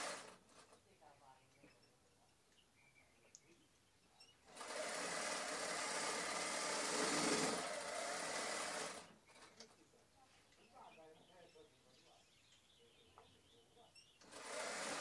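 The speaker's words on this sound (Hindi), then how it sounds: "सलवार को सिलाते हुए सलवार में सिलाई मारते हुए" A sewing machine stitches a ladies' salwar suit in one continuous run of about four seconds, surrounded by quiet handling of fabric and faint background sounds.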